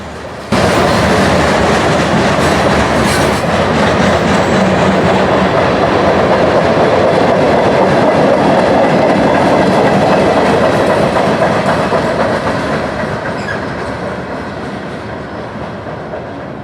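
A freight train with a former Penn Central grain hopper rumbles past continuously and loudly at close range, wheels clattering steadily on the rails, slowly fading toward the end.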